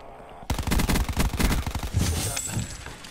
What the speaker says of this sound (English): That was me shooting at a zombie.